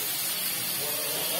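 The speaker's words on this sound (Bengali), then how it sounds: "এবার একটু সামান্য জল দিয়ে দিই।" A little water poured into a pan of frying fish curry gives a soft, steady hiss and spray of steam, fairly faint and continuous.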